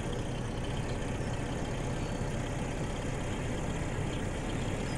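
A truck engine labours through snow in Farming Simulator 17, a steady, loud, broadband rumble that holds constant without talk throughout.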